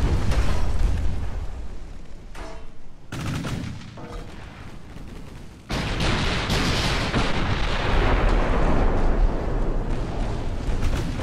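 Heavy 7-inch naval shells strike a ship in the naval warfare game Ultimate Admiral: Dreadnoughts, giving loud, booming impacts and explosions over a steady roar of battle. One blast cuts in sharply partway through, and the rumble continues after it.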